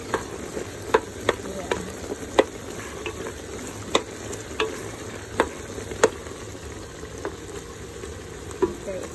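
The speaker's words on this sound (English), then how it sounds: "Boiling a lot." Food bubbles vigorously in a pan, a steady sizzling hiss broken by frequent sharp pops and crackles at irregular intervals.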